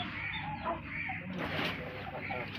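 An Aseel hen of a home breed clucks and calls in short, close bursts, with a livelier rise midway, while someone talks nearby.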